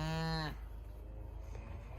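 A cow lets out one short, loud, deep moo at the start, near a barn where calves are kept in winter. A low, quiet background hum follows for the rest of the clip.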